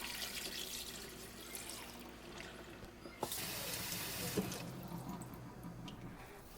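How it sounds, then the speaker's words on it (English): Tap water runs steadily into a bowl of meat chunks being soaked for rice cake soup, a continuous moderate splash and gurgle with a couple of brief knocks, no voices. "After that, I put them in water again."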